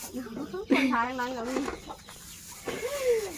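A chicken clucks and squawks nearby in several short, warbling bursts, with a quieter rising call near the end.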